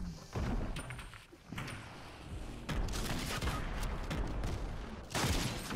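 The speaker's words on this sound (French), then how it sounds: "Ça me tire dessus" Rapid bursts of gunfire and booming impacts in the video game Fortnite, dense and continuous across the stretch with louder volleys near the start and end, no talking over it.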